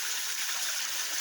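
Spring water flowing near a waterfall at Lapunan, Marilog, Davao City, a steady bright hissing rush that stays even and fairly soft throughout, with no voices heard.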